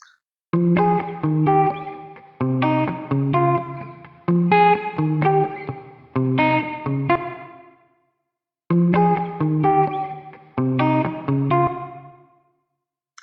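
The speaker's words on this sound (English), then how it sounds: "you can see the reverb difference." Short bursts of distorted, effected instrument notes ring out and trail off with a washy reverb tail, separated by moments of silence.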